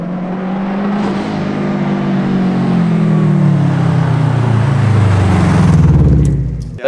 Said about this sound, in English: There's no other car on the road that sounds like it.